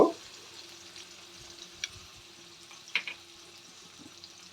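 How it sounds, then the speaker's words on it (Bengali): Cut potatoes frying in oil already used to fry fish, with salt added, a faint steady sizzle with a couple of light clinks of a utensil and no talking. "এবার আমি কেটে রাখা আলুগুলো ওই তেলেই ভেজে নেব"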